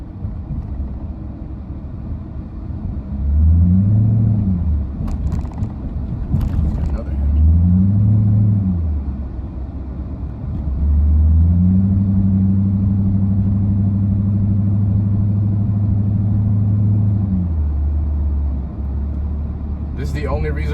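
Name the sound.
2006 Chrysler 300 Hemi car driving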